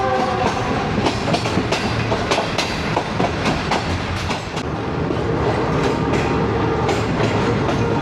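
The Shalimar Express passenger train rolls along the tracks between Lahore and Multan with a loud, continuous rumble and repeated rhythmic clickety-clack of wheels over rail joints, heard close and steady throughout.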